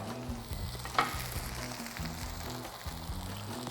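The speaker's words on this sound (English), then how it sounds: "We're gonna flip these next couple pieces of veal." Pieces of veal fry in a hot pan with a steady, close sizzle and crackle throughout, a brief louder clatter near the start, no talking.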